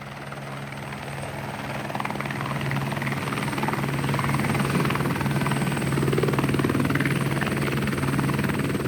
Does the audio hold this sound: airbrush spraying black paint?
no